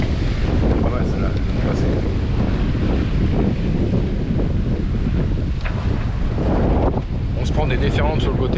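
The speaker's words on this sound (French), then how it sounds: "on se prend des déferlantes sur le côté" Waves and surf wash continuously against a sailboat at sea, with steady wind buffeting the microphone and loud rushing water throughout, along with occasional faint voices.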